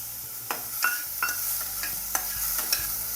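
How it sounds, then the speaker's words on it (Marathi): Beans dry-roasting in a pan for a Makar Sankranti bhogichi bhaji, with a spatula scraping and stirring in steady strokes about every half second over a soft sizzle. "आता बीन्स भाजून घेते."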